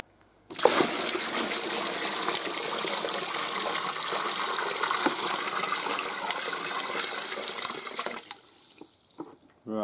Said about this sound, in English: Okay, builder's bucket. More hot water.